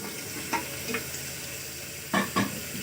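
Mutton pieces fry with ginger garlic paste in a pot for aloo gosht, giving a steady low sizzle broken by a few spoon knocks and scrapes.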